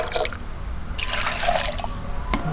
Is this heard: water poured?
yes